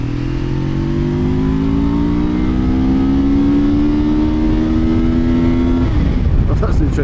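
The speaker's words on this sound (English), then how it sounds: "That's interesting, it just keeps revving." A QJ Motor SRT 450 RX adventure motorcycle engine revs continuously, its pitch climbing steadily for several seconds before dropping off. The sound is loud and close under wind rush.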